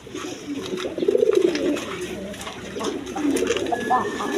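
At a pigeon breeding farm, nearby pigeons give low, rolling coos in two or three clear swells over a short stretch, against a faint busy background.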